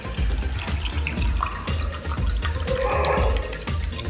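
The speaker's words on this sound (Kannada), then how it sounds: "ಇವಾಗ ನೀರು ಹಾಕ್ತೀವಿ ನೋಡಿ ಫ್ರೆಂಡ್ಸ್" Water poured from a small cup into a pot of mutton, rice and spices for bachelor-style mutton biryani, a continuous splashing, gurgling pour heard close and fairly loud without talk.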